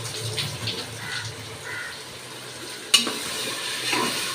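Goat lung sautés in a pan for homemade thokku, a soft sizzle under stirring and scraping, with a sharp utensil clack near the end. No one speaks.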